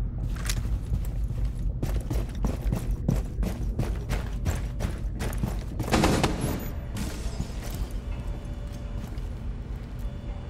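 Rapid mechanical clicks and clacks of a magazine swap and reload in Rainbow Six Siege, a dense run of sharp transients over steady game background noise, with a louder burst near the middle.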